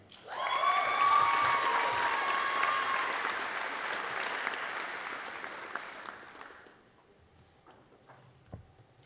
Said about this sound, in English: let's give one more round of applause for our graduates